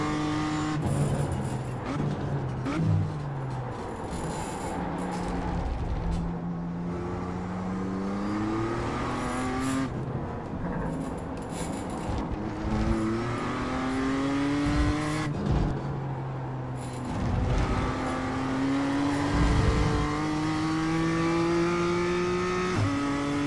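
A BMW M2 race car in iRacing revs and shifts around the Winton circuit, its engine note climbing and dropping repeatedly with gear changes over a long, continuous stretch, loud and close.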